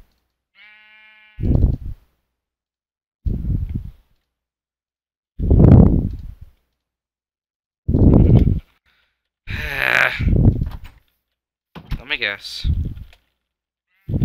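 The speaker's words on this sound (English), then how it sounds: "Yeah, I see the sheep up there." Sheep in the game Minecraft bleat in a short, nasal cry near the start, followed by several bursts of someone talking close to the microphone.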